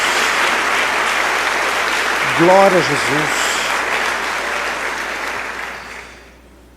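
A church congregation applauds steadily throughout, with a voice briefly calling out over the clapping before it fades away at the end.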